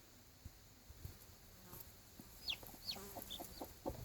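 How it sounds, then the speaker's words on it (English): Faint high cheeps from small Black and Lavender Orpington chicks, a few scattered peeps over quiet background buzzing, growing slightly busier toward the end. "They were cheeping again."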